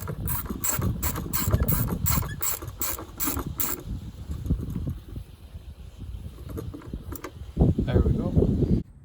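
A ratchet tightens a nut on an old Honda CR-V, clicking in a quick, steady run for about four seconds before giving way to quieter handling and mechanical knocks.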